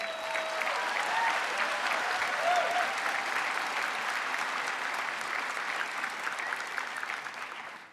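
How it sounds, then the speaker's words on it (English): A large crowd claps steadily in an auditorium at a George Brown College convocation, a sustained, even round of applause that tapers slightly at the close. "Why not take a moment to applaud all those wonderful individuals."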